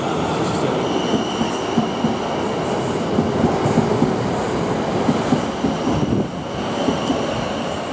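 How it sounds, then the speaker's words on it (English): A South Western Railway Class 450 train rumbles past close by at Aldershot station, a loud steady roar with rhythmic clacking of wheels over the rails and occasional squeals. "There you go, there's the train."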